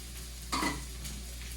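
White onion and leek frying in a pan for Pad Thai, a steady hiss of sizzling with a brief louder scrape of stirring partway through, heard close with no voices.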